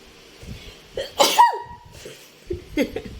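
A single sharp sneeze bursts out, preceded by a quick intake of breath and followed by soft breathing and a small throat sound.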